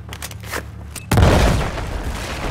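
A loud in-game blast from the Battlefield 4 campaign bursts in about a second after a quieter stretch, its heavy booming rumble carrying on through the rest of the moment.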